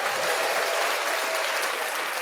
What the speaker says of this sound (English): So here's a round of applause.